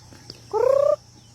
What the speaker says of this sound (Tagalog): Ayan mga manok ko.